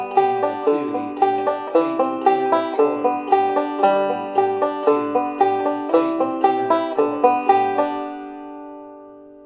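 A banjo picks a quick, even alternating thumb roll backup pattern for "Cripple Creek" of bright plucked notes, steady and close, ringing out and fading at the end.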